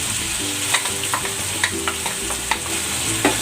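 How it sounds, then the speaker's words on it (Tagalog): Sauce poured over squid in a hot pan sets off a steady close sizzle and frying hiss, with scattered light stirring clicks and taps throughout. "Ibuhos na natin dito yung ginawa nating sauce."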